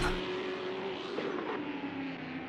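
A McLaren race car in Assetto Corsa howls steadily at high revs through a right-hand curve, close and loud, with a continuous engine drone and no talk.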